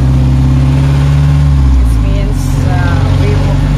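Jeepney pulling away through Davao City traffic during the Kadayawan Festival holiday, its mid-pitched engine droning and rising steadily close by while a voice talks over it throughout.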